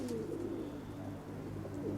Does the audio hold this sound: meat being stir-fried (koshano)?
no